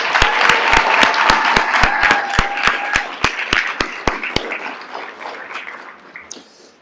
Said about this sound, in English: Let's offer a final round of applause for all of our graduates.